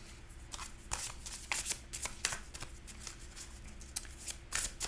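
A deck of oracle cards shuffled close up, quick riffling and flicking bursts in an uneven rhythm, soft but distinct with no talking.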